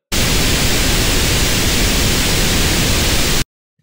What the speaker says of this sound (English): So again, they sound like pink noise.